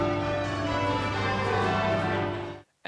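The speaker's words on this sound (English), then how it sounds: "Bells rang out at Westminster Abbey" Church bells of Westminster Abbey pealing in celebration, a dense ringing wash of overlapping tones held for a couple of seconds before cutting off abruptly.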